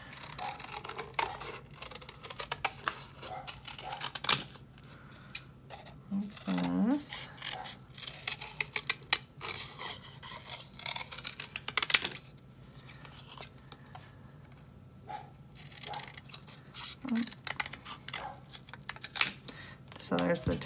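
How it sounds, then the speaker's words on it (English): Scissors snip through paper while cutting out a mask shape in a third-grade art lesson. The cuts come as quiet, scattered bursts of close crisp snipping, with someone talking in between. "And then I'm gonna cut this out."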